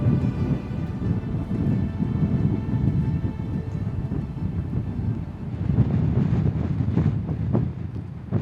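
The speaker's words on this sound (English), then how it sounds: "the sudden arrival of a 30 km/h easterly wind, making conditions much more challenging for photography" Strong 30 km/h easterly wind gusting at night by a lake, a constant loud roar and rumble buffeting the microphone throughout, with no voices.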